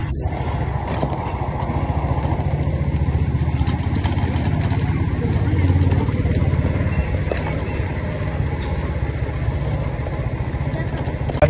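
A motorcycle is ridden along a road with its engine droning steadily and loudly up close, accompanied by wind buffeting, while a rider talks over the noise.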